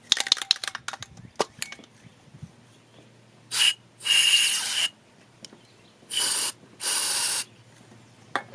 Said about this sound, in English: Now what I have to do is spray some of this into this top.